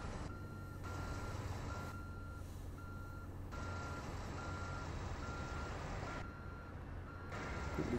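Truck reversing in American Truck Simulator, with a steady engine drone under repeated evenly spaced reversing beeps and a faint hiss of air brakes, no talk.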